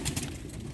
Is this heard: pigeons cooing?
yes